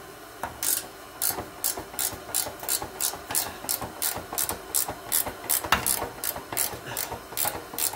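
A ratchet clicks in quick repeated bursts of strokes while working on the centre driveshaft of a 2006 Subaru B9 Tribeca, close and crisp with a regular rhythm and no speech.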